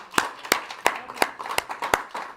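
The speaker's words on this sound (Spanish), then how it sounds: "Un aplauso a Cristo" A church congregation claps in a steady, evenly spaced rhythm, about seven sharp hand claps in quick succession, moderately close and with no talk over them.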